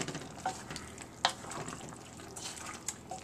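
Soy sauce stirred into cooking Chamorro tinaktak in a pot, a soft wet sizzle with scraping spoon strokes and a few sharper clinks, fairly quiet and with no talk.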